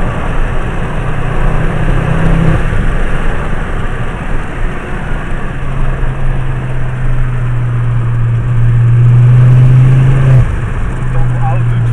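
An Audi R8 engine with an Akrapovič exhaust drones loudly and steadily nearby, with a deeper, stronger rev partway through, while people talk over it.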